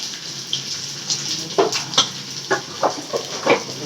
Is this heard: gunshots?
no